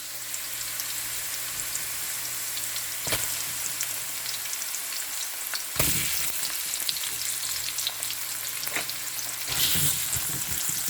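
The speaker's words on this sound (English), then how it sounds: "And then I'll have to add my white cooking onions." White cooking onions fry in a pan for tofu with mushrooms and baby spinach, giving a steady close sizzle with a few louder stirring scrapes and clatters.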